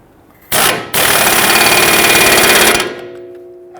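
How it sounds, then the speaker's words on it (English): Power impact tool tightening the upper knuckle bolt to the control arm on a 2010-2019 Ford Taurus rear suspension, a loud close rattling hammer burst lasting about two seconds after a brief start, then fading. "Tighten down the upper knuckle bolt to control arm."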